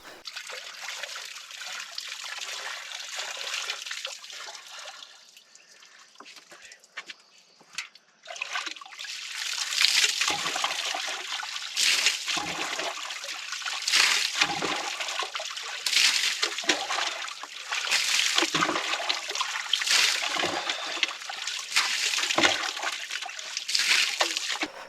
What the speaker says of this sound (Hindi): एकदम ठंडे पानी से सुबह सुबह नहा के